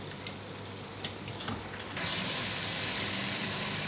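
Paya, goat or lamb trotters, frying with spices in a pan: a close, steady sizzle with a few stirring knocks, swelling suddenly louder partway through and then holding, no talk.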